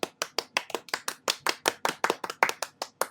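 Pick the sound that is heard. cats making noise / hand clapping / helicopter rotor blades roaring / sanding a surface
hand clapping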